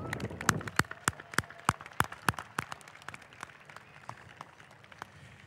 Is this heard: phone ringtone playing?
no